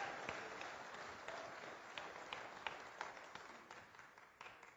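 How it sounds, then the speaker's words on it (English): A church congregation claps faintly and at a distance, with a few sharper individual claps standing out, and the applause thins as it goes on. "Give Dave a round of applause."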